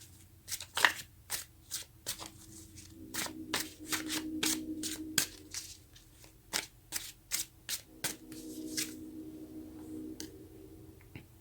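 Tarot cards are shuffled and dealt by hand, a steady run of close, crisp riffling and flicking taps with short soft slides between them, with no talking.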